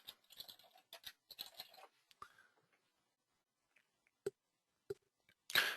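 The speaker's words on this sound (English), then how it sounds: "it does allow for typing right into it" Computer keyboard keys clatter in quick bursts of typing, then slow to a few isolated clicks after a pause, close and quiet in a still room.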